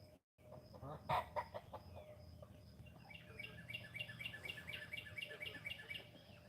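Isa Brown chickens cluck and chirp near the coop in quick, soft repeated calls, with a faint fluttering burst early on and a steady outdoor hum beneath.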